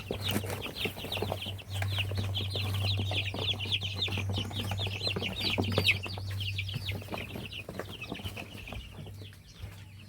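One-month-old chickens in a pen cluck and chirp busily and continuously, close by, over a steady low hum.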